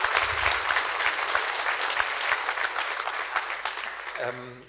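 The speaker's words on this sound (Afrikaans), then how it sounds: "weer 'n lekker hande klap gee asseblief" An audience at an Afrikaans Easter show claps loudly and steadily for about four seconds before the applause fades and a voice begins speaking.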